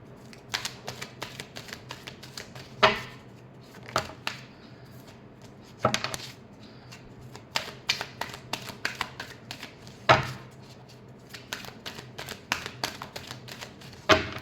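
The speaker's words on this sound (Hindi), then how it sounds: "Last shuffle." Tarot cards are shuffled by hand in repeated riffling, slapping bursts with sharper snaps every few seconds, close and fairly quiet.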